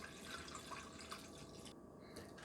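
Half a gallon of apple cider pours into a container for a camp cocktail, a soft steady trickle and glug of liquid heard faintly and closely, with no talking.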